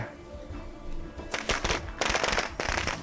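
Firecrackers set off in the State of Decay 2 game, heard as several bursts of rapid crackling pops in quick clusters, fairly loud over a low background hum.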